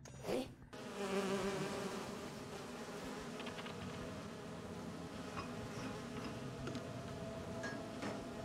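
Steady insect buzzing from bees in an Identity V match, a continuous droning hum that stays level and fairly loud throughout with faint ticking underneath.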